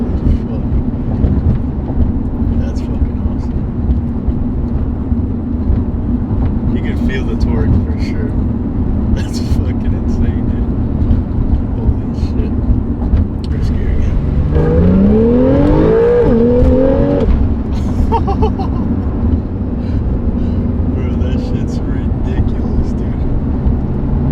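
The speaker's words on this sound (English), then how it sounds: "I guess I can try a full throttle pull" A Porsche 911 accelerates at full throttle, its engine a loud, sustained, heavy drone heard from inside the car, with a rising gear-whine sweep midway, while voices talk throughout.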